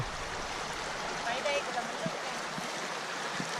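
Stream water flows in a steady, soft rush as people bathe in a village stream in Sam Neua, Houaphanh, with a faint voice briefly over it.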